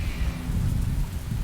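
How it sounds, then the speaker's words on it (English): Deep rolling thunder rumbles loud and close in the video game Neverwinter Nights, a continuous low growl with a rain-like hiss over it and no speech. "Gosh, that thunder is loud."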